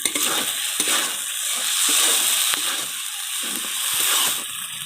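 Tomato paste and ground cumin and coriander paste fry in a hot pan while being stirred for a Bengali jackfruit and prawn curry. A loud, continuous sizzle and hiss runs throughout, with stirring scrapes and no talking.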